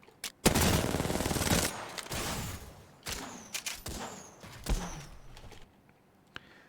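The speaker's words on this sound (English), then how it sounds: "That's like a super interesting gunshot, isn't it?" Several sharp Apex Legends video game gunshots with a rattling burst of rapid fire, echoing tails and scattered smaller bangs that fade toward a quiet end.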